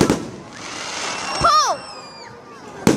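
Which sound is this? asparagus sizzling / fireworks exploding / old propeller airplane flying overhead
fireworks exploding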